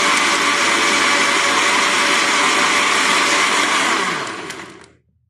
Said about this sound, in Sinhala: මෙන්න මම තව පාරක් බ්ලෙන්ඩ් කරගත්තා